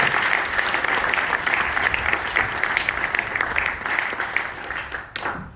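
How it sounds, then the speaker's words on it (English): A live audience at a Hawaiian village show applauds hula dancers with steady, dense clapping that holds loud and even before cutting off sharply near the end. "How about another round of applause for our dancers?"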